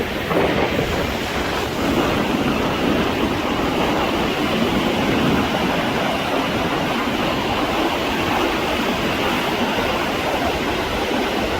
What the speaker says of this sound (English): Waves out there look crazy